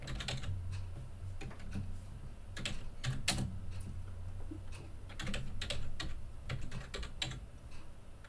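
Rapid keystrokes on a computer keyboard while a search term is typed into the Google Cloud Console search bar, with irregular bursts of clicking and brief pauses over a low steady hum, with no voices.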